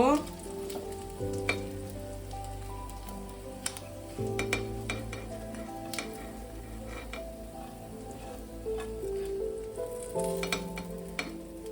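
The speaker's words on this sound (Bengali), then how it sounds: "উল্টে দিয়ে আরেক পিঠ আমি ভালো করে ভেজে নেবো। মাছগুলো আমার ভাজা হয়ে গেছে" Small mourola fish frying in hot oil in a pan while being turned for a Bengali fish curry, giving a steady close sizzle and crackle throughout with occasional clinks of a utensil.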